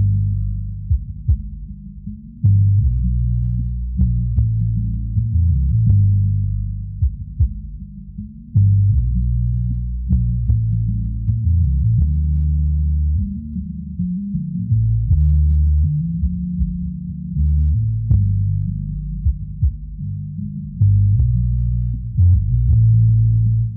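Boom bap hip hop beat loop built on a sampled bass line, with a heavy, warm low end rolling steadily and sharp drum hits ticking above it in a repeating groove, played alone without talk.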